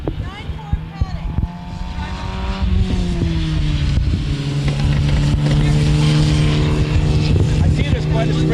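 Race cars roar past at a paddock during a motor race, their engines rising and falling in sustained, loud passes with overlapping tones, while people talk underneath.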